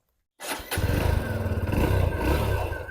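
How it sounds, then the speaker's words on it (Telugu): A 2025 TVS Sport 110 motorcycle engine cranks and catches, then settles into a loud, close, chugging idle. "ఇప్పుడు మనం బండి స్టార్ట్ చేద్దాం"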